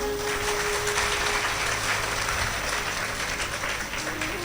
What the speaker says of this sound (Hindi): एक बार श्री हनुमान सेवा ट्रस्ट के लिए जोरदार तालियां हो जाए।